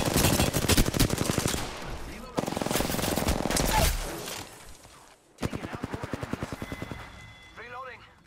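Rapid automatic gunfire in the battle-royale shooter Apex Legends, played as Pathfinder, rattling in loud bursts with brief pauses and a reload gap, plus a voice briefly speaking near the end.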